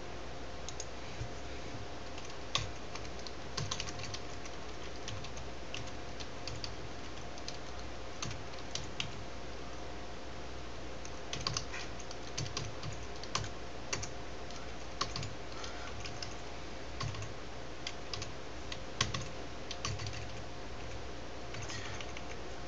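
Steady typing on a computer keyboard while making a directory for a help desk setup, with quick close key clicks and occasional sharper taps running throughout, quiet and without speech.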